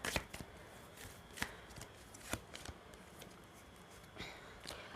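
Tarot cards are drawn and handled from a deck in a reading, heard as soft, faint flicks and papery slaps spaced irregularly, close and quiet with no voice.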